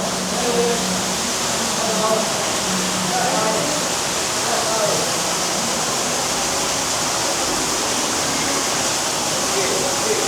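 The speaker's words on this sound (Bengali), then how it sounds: "এখানে একটা ঝর্ণা আছে" Steady splashing water from an indoor fountain fills the space continuously, with faint crowd chatter underneath, inside the Radiant Fish World aquarium in Cox's Bazar.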